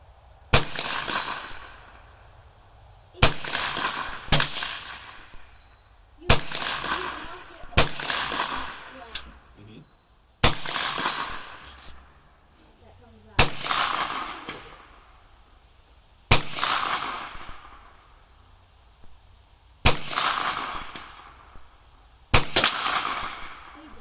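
A rifle fitted with a CVLIFE 1-6x24 EagleTalon LPVO scope fires about eleven loud, sharp shots at an outdoor range, spaced irregularly a second or two apart, each followed by a short echoing decay.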